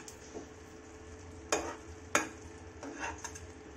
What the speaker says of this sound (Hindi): मिक्स करते हैं अदरक को चाशनी में।